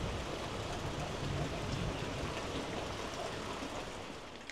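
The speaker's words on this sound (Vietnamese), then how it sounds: "Nhưng mà cơn mưa này không phải là sẽ nhanh ngớt." Heavy rain pours steadily in a remote mountain village, a dense, loud, continuous hiss of drops on surfaces that barely eases across the stretch.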